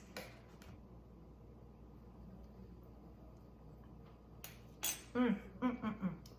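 A spoon clinks against a pot of ramen soup in several quick, light metallic taps near the end, after a long, quiet stretch of low background hum.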